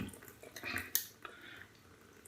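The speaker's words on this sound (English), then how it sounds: "Run under some hot water." A Gem G-Bar single-edge safety razor is rinsed under a running hot tap, giving soft splashing and dripping water with a few brief clinks, fairly quiet and with no talking.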